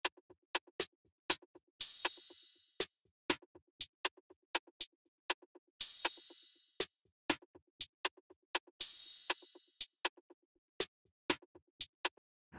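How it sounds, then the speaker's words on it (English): A programmed hip-hop drum pattern plays the top drums together: crisp, rapid rim shots and ticking hits in a steady groove, with a bright crash or ride cymbal wash swelling every few seconds, no voices. "And all the top drum shots at once sound like this."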